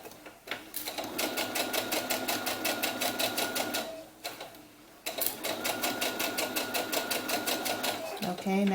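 A sewing machine stitches a doll's sunsuit in two steady runs of rapid, even stitching with a brief pause between them. Someone talks over it.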